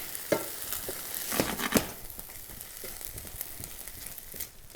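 Bacon fries in a pan, a quiet steady sizzle with soft crackles and a few scraping stirs, and no voices.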